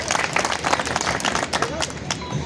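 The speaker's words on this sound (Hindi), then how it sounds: "सभी कर्मचारियों के लिए भी एक बार जोरदार तालियां होनी चाहिए।" Crowd applause for roadways employees at a B.R. Ambedkar birth anniversary gathering, steady mid-distance clapping from many hands with a voice faintly audible beneath.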